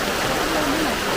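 Water pours steadily from a pipe into a bucket, a constant close splashing rush with no pauses across the short moment.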